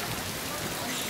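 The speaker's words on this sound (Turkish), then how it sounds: "Ama çok güzel yağıyor." Steady rain pours down outdoors, a dense, even hiss of drops soaking everything with no break across the short stretch.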